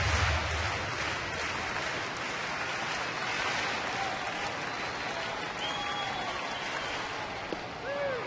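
A large baseball stadium crowd of Rangers fans in Texas cheers and applauds at a July 4th game, a steady, distant roar of many voices and clapping that lasts throughout.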